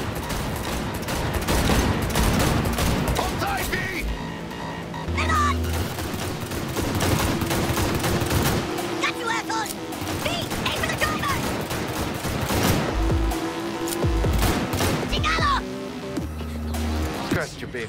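Rapid bursts of gunfire crackle during a car chase in the Cyberpunk 2077 video game, with repeated volleys over engine noise, a few lower thuds, and voices talking in between.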